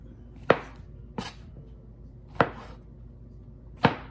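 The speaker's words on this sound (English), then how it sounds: "I'm just gonna slice this whole pound of mushrooms, about medium size" A kitchen knife slices through medium-size mushrooms on a cutting board, four crisp separate chops with pauses between them, close and fairly quiet, with no talking.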